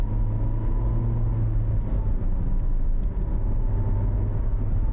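A truck drives away on a road near Paoay Church, giving a continuous low engine rumble with steady road noise and no talk.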